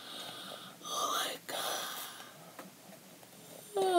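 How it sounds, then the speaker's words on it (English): A person yawns indoors with a drawn-out breathy exhale that swells and fades, soft and close, followed by a brief rising vocal sound at the end. "I'm so sorry for me yawning."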